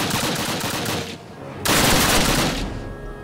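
Rapid machine gun fire from the video game Call of Duty 1 rattles in two sustained bursts separated by a short pause, loud and close, with game-like gunfire clatter.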